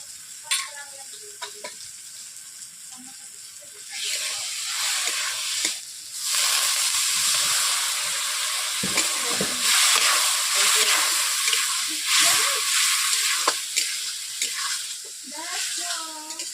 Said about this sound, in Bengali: এইভাবে আমি আলুগুলোকে 5 মিনিট কষিয়ে নিয়েছি